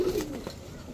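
A breeding pair of pigeons in a loft of racing and fancy breeds such as Budapest, Damascene and Giribaz gives a brief, soft, nearby coo.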